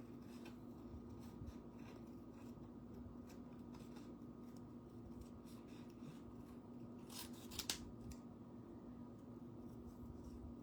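Quiet, steady snipping and rubbing of scissors working through paper, with a soft background hum and a couple of sharper clicks near the end.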